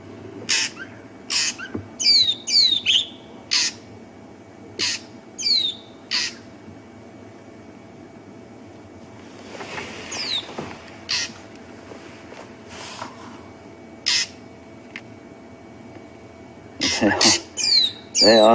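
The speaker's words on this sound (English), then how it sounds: "Now what you can hear there is a whole lot of drongos starting to call" Drongos calling at dusk on a South African game reserve, many short, sharp, squawky notes coming in clusters at varying distances over a low vehicle rumble with some faint background noise.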